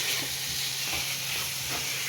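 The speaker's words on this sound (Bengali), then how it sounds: "তো আলুগুলো দিয়েও কিছুক্ষণ কষিয়ে নিতে হবে" Potatoes sauté in a hot pan with a steady, even hiss and sizzle close by, heard alone without talk.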